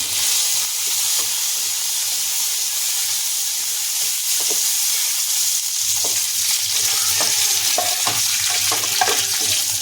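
Cumin seeds and curry leaves, added to hot oil with dried red chillies to temper a bottle-gourd yogurt raita, sizzle and hiss loudly and continuously up close, with small crackles and no talking.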